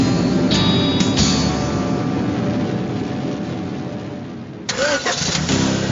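In a Grand Theft Auto Vice City radio car advertisement, a car engine cranks and fires up, with a steady engine drone running under the mix and a fresh burst of engine noise near the end.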